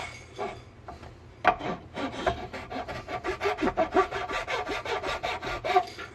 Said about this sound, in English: Just slowly filing down all the way down to the surface.